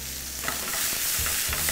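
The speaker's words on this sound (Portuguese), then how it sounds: "E vai deixando fritar, gente." Meatballs fry in a pan for arroz à napolitana, a continuous close sizzle with occasional stirring scrapes and no voices.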